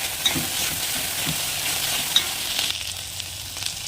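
Okra (lady finger) fry being stirred and cooked in a pan, with a steady broadband sizzle under scraping stir strokes and a couple of sharp clinks, close and continuous without talk.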